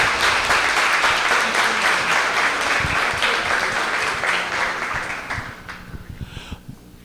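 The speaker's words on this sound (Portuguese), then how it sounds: "Os aplausos para o Saulo Gomes." An audience applauds after a tribute to a veteran reporter, a dense sustained clapping that thins and fades toward the end, with scattered individual claps left at the close.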